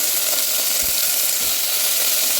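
Chopped eggplant and potato sizzle steadily as they sauté in a hot pan, a continuous close frying hiss with a couple of soft stirring bumps.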